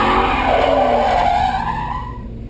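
A race car spins out across an SCCA Pro Solo autocross finish, its tires skidding and squealing loudly and steadily under engine noise for a couple of seconds before the screech trails off.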